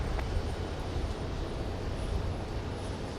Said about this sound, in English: Starting up right below us, we have a JetBlue A220